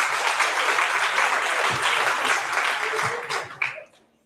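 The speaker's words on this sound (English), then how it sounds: "Give Wiseman a round of applause." Audience at a business workshop applauds a participant, dense steady clapping that fills most of the moment before tapering off quickly near the end.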